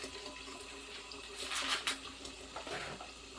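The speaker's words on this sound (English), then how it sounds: "You're going to want to rinse all your corn off and get all those hairs off too." Ears of corn are rinsed under a running kitchen tap, a faint, steady stream of water with a brief louder splash near the middle.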